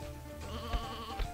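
Sheep bleating in the video game Sheep Dog 'n' Wolf, a short wavering bleat over a steady game soundscape, with two soft thumps.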